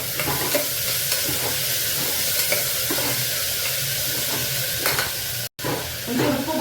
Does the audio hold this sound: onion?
yes